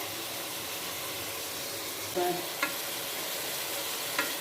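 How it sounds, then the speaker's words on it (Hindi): Tomatoes frying with masala for mutton liver curry: a steady, loud sizzle fills the whole stretch, with a few faint clinks of a spoon against the pan. "इसी में फिर भुनाई हो जाएगी, मसाला भी भुन जाएगा और टमाटर भी हल हो जाएंगे"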